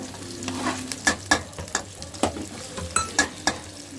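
Finely chopped onions and green chillies frying in hot oil with cumin, a steady sizzle broken by sharp clicks and scrapes of a spoon stirring against the pan.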